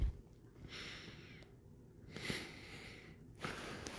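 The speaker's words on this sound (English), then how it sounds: "I literally had to blow my nose" A person blows their nose close to the microphone in three breathy bursts spaced about a second and a half apart, each a short rush of air, quiet overall with no talking.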